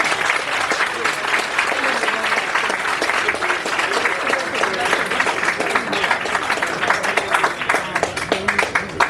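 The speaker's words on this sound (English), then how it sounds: "Good, warm round of applause for Mr. Rod McGrew." A warm, sustained round of audience applause for a radio personality at a legends awards night, steady dense clapping that carries through the whole stretch at an even level.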